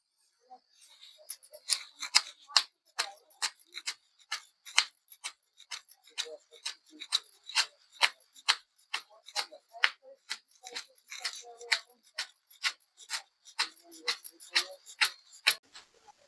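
Green chillies and mint ground on a stone, a steady series of sharp scraping strokes repeating rhythmically, close and clear, with occasional faint voice in between.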